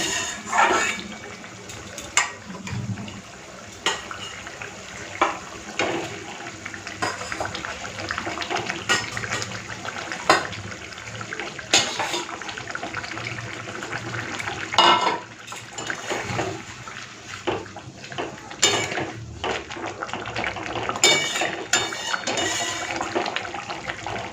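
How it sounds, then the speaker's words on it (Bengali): Coriander leaves being washed in a container of water while making pomfret fish curry, with steady splashing and sloshing, occasional sharp clinks of a vessel, and running-water texture throughout. "এখানে জলের মধ্যে নিয়েছি ধনে পাতা ভালো করে ধুয়ে নিচ্ছি"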